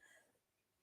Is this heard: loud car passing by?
no